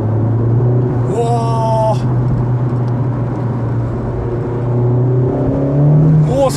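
A Honda Civic Type R's engine blips up sharply on a downshift to second gear, a brief rising rev over a steady in-cabin engine drone and road rumble, with a second rev swell near the end.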